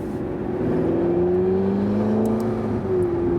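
A McLaren 650S Spider convertible's 650 hp V8 drones steadily and close while cruising in normal driving mode, holding a smooth, layered engine tone throughout with no voices.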